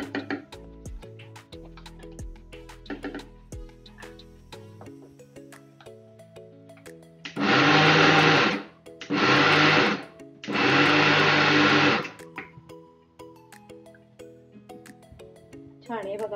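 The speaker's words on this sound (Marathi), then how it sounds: "अशी मिक्सरमध्ये फिरवून घ्यायची आहे" A mixer grinder whirs in three loud bursts, grinding a sesame spice mix, with clinking and a voice talking before and after the grinding.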